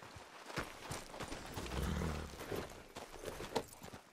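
Horse hooves clip-clop at a steady walking rhythm in the Red Dead Redemption 2 video game, close and fairly quiet, with soft rustling and low rumbling around them.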